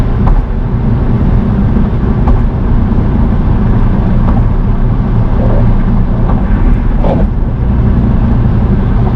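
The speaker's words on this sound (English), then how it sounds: "on the highway here, it's a little bit of a different story. It actually drives okay, but the wind noise, the road noise is a bit high" Inside a 2015 Chevrolet Spark EV at highway speed, loud steady wind and road noise fills the cabin as a constant broadband rush with a few faint knocks and thumps.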